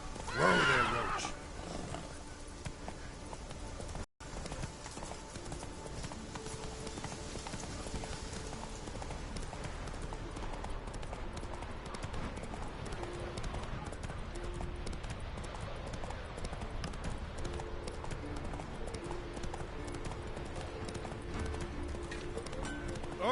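Horse hooves clip-clop steadily on a road in The Witcher 3, with occasional neighs and whinnies and a continuous game backdrop heard throughout.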